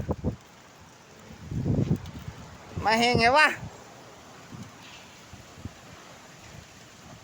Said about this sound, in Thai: ลมมาแล้วครับ